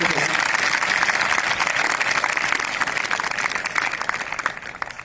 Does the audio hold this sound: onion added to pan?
no